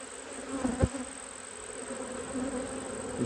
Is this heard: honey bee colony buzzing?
yes